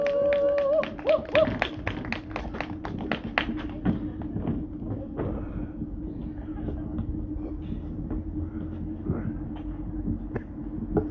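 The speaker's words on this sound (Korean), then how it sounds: "모두 큰 박수로 맞이해 주시면 고맙겠습니다" An audience at a Seongju candlelight gathering claps to welcome a singer to the stage, loud and dense at first, then thinning to scattered claps over a steady background hum.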